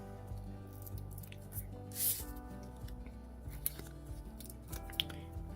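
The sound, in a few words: scissors cutting Stampin' Foam tape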